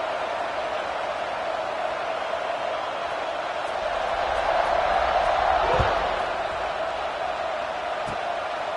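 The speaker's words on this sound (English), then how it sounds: "this crowd is buzzing after that last score" Steady crowd buzz fills a football stadium after a score, a broad continuous roar that swells slightly midway before settling, with a brief thump and a voice faintly under the noise.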